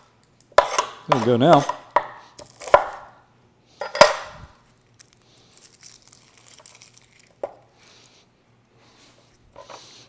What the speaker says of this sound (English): Again, nice rustic chop.